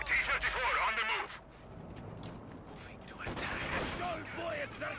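Company of Heroes 2 combat with tanks and engineers: gunfire and mechanical battle noise swell loudly, drop away briefly, then return, with voiced unit lines mixed into the action.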